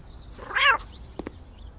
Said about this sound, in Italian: Perfetto, andiamo ad accarezzare il gatto.